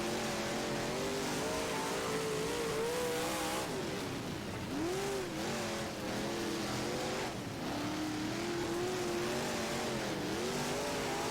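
Dirt big block race cars roar around Oswego in rFactor, a continuous loud engine drone whose pitch rises and dips as the throttle works through corners, with no talk.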